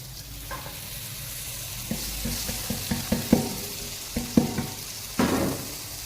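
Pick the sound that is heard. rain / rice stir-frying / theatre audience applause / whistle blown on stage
rice stir-frying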